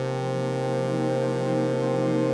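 A Moog Model D synthesizer runs through an Eventide pedal's Crystals effect, two pitch-shifting blocks with algorithmic reverb, giving a sustained, shimmering chord of stacked harmonic tones that holds steadily and fairly loud throughout.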